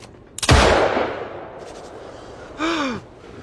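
A pistol shot in a film scene, one sharp loud crack with a long decaying tail, then a short gasping voice a couple of seconds later.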